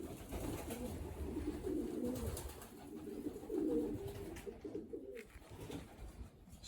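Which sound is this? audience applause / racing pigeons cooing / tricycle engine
racing pigeons cooing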